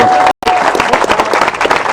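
A crowd applauds loudly at the christening of Maxime Sorel's boat for the 2022 Route du Rhum, dense steady clapping broken by one brief cutout near the start.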